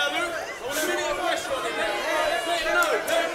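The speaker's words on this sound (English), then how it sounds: "there's real fizz and excitement in the crowd as well" Excited crowd at a Muay Thai Grand Prix fight between Vinny Church and Luke Whelan, a continuous roar of chatter and shouting filling the arena, steady and loud throughout.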